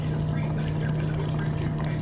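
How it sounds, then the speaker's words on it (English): Steady broadband splashing of water poured continuously into a cup, close by, with a constant low hum underneath throughout. "I'm gonna put some water in it"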